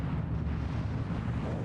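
Naval bombardment of the Normandy coastline on D-Day, heard as a continuous, dense, muffled rumble of distant explosions rolling together without distinct gaps.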